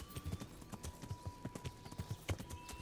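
Horse hooves clip-clopping at a steady trotting rhythm in the video game Kingdom Come: Deliverance, close and clear with no talk.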